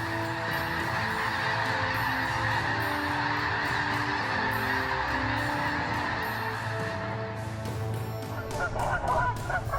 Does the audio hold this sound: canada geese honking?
yes